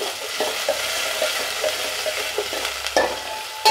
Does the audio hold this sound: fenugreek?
yes